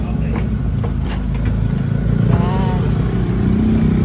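A motorcycle being towed along a road gives off a steady, close engine rumble with some clattering, while people talk over it.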